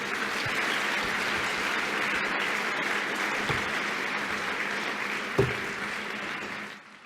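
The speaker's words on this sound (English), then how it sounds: "Let's give James a round of applause." Audience applause closing a conference talk on Intel ME, JTAG and open-source BIOS firmware, a steady, dense wash of clapping throughout the room that holds even and fades away at the end.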